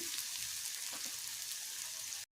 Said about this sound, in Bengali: পেঁয়াজটা একটু ভেজে নেবো।